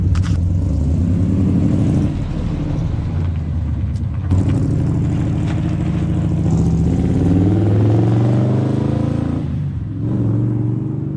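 A 1968 AMC Javelin muscle car cruising on the road, its engine droning loud and close in a steady low rumble with rising and falling revs as it accelerates and shifts, plus road and wind noise.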